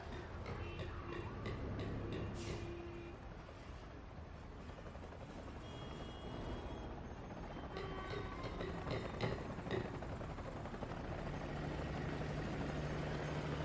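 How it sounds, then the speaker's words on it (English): Helicopters in the PS3 stealth game Sly Cooper: Thieves in Time give a steady low rotor drone with rhythmic chopping, continuous and fairly loud throughout under game effects and music. "Avoid those choppers, Sly. If they see you now, we're busted."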